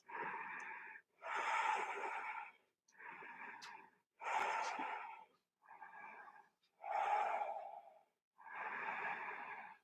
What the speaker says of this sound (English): Let's take another 3 deep breaths here.